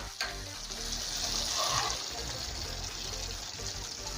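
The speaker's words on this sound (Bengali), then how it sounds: "এখন দেবো আগে থেকে ফেটিয়ে রাখা টক দই।" A steady low sizzle from spice paste frying with cashews and tomato over a very low gas flame, swelling briefly into a louder hiss and bubbling as beaten sour yogurt is added to the pan.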